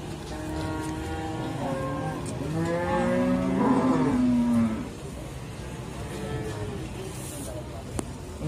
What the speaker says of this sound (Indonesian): berdampingan dengan sapi milik Mas Agung.